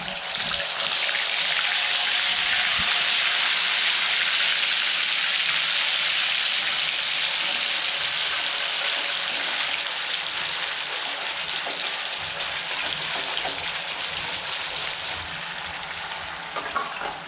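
Onion, garlic and ginger paste frying in white oil in a pan, a steady, loud, dense sizzle that holds evenly throughout with no talking.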